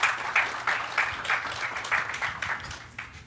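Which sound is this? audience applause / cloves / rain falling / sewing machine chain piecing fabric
audience applause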